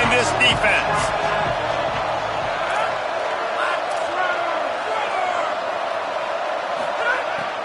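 Football stadium crowd roaring on a big third down in a college game, a sustained wash of cheering with an early burst of noise, while a commentator talks over it.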